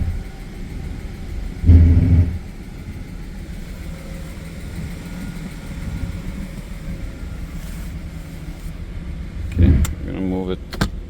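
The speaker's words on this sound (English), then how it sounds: "Okay, car's moving." A BMW E38 750i V12 rolls slowly in reverse after a transmission fluid change, a steady low engine rumble heard from inside the car, with two louder thumps or clunks, one early and one near the end.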